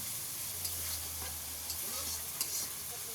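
Ginger and spices frying in oil in a small shop kitchen, a low steady sizzle with a few faint stirring scrapes and a background hum.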